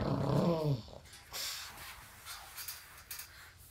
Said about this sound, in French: Mon chien a voulu bouffer le chat.